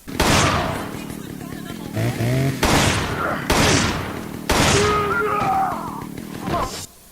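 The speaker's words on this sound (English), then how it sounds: "So only 4 shots this time when fully upgraded against the Chainsaw Magini." Smith & Wesson M29 magnum revolver firing in Resident Evil 5, fully upgraded, against a chainsaw-wielding enemy: about four loud, sharp shots spaced across the clip, mixed with game sounds and a chainsaw-like roar, with someone talking over it.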